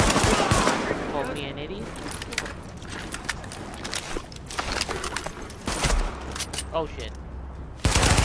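Rapid automatic gunfire fills a firefight in Tom Clancy's The Division, with dense overlapping bursts and shots running throughout, loud and close, while someone talks over it.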